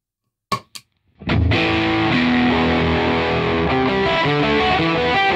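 An electric guitar through a Great Eastern Focus Fuzz Silicon pedal into a Matchless amp, with two brief muted string scratches, then a thick, sustained, saturated fuzz chord that swells in and holds loud and close.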